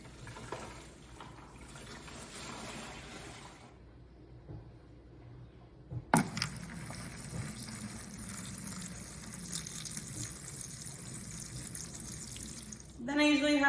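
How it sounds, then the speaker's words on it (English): About a gallon of warm water poured slowly onto seed-starting soil in trays, heard as a soft trickle that breaks off and then returns as a louder, steadier splashing pour, with faint talk nearby. "This is about 1 gallon of warm water. I'm gonna just slowly pour that on top of the soil."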